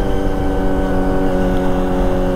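Kawasaki ZX-25R motorcycle fitted with a ProSpeed Shark high-mount exhaust, idling or running steadily with a dense, even engine drone and strong low harmonics, loud and close, with no voices.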